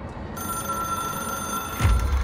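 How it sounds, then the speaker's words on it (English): An in-game telephone in the video game Control rings with a bright electronic bell trill over a low ambient hum, loud and close, with a sharper burst of ringing near the end. "It is a phone."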